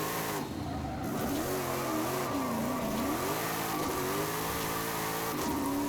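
Saleen F150 truck engine in Forza Horizon 5, revving and wavering up and down through gear changes, loud and continuous with tyre noise underneath.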